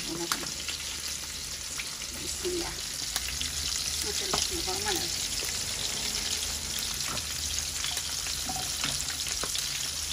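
Fish frying in a pan in a home kitchen, giving a steady, close sizzle with scattered spits and pops throughout and no clear talk.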